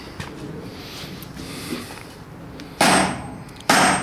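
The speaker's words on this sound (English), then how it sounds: "That's a big hammer, man." A hammer strikes metal twice, loud and close, each blow ringing out briefly after a stretch of quiet shop noise.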